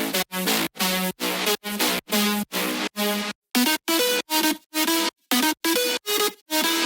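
Future house drop leads ring out in a track, with layered wavetable synths. Short, loud, evenly spaced stabs pulse in a choppy rhythm, with tiny gaps between hits and the pitch shifting midway through.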